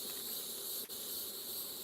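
Honeybees drone steadily during a backyard hive inspection, a dense, even buzz close to the hive that carries through the short moment with one brief dip.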